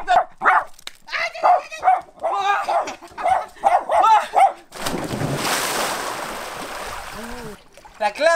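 A small dog barks repeatedly in rapid, loud yips close by indoors, then a rush of bath water running takes over.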